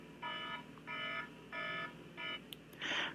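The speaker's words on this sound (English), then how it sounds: "that would have been the alarm I normally use for work" An electronic alarm clock of the kind used to wake for work sounds four evenly spaced buzzing beeps, each about half a second long, followed by a brighter burst of tone. It is fairly faint and heard alone.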